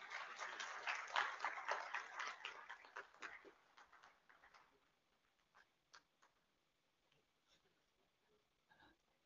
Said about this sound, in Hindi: जोरदार तालियों से स्वागत करेंगे।